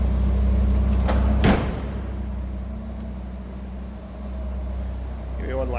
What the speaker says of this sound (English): Go ahead and close this front door all the way.